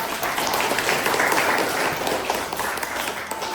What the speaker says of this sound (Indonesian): Kita berikan aplaus untuk teman-teman